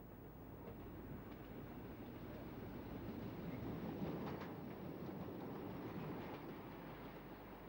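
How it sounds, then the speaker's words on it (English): A Bournemouth train in REP and TC formation passes on the main line, a steady, loud rumble of wheels on rails that builds slightly toward the middle and holds throughout, with faint rhythmic clatter. "On the main line, the new order for Bournemouth trains passes, with a rep and TC formation"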